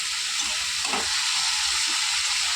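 Salted vegetables fry in a pan as they are stirred, giving a loud, unbroken sizzling hiss close up, with faint scraping stirs underneath.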